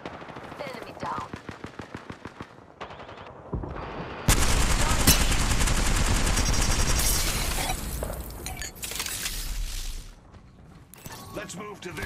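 Apex Legends gunfire: rapid automatic bursts and heavy sustained shooting, loud and close, broken by short pauses, with voices talking over parts of the action.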